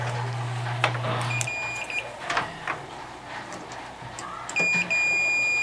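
A multimeter runs a continuity check on a fuse near the magnetron of a broken microwave, giving a steady close electronic beep tone that starts and stops, amid faint handling clicks.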